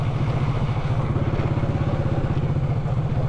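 A motorcycle engine drones and putters steadily at close range while riding toward Pasir Asam, Malaysia, a low rhythmic pulsing rumble throughout with wind noise.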